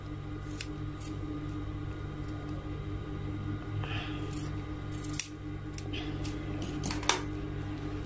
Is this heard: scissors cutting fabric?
yes